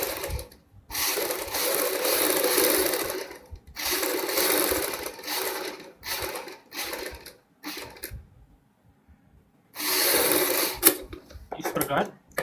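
A sewing machine stitches fabric in several close, loud, whirring bursts of a few seconds each, separated by short pauses.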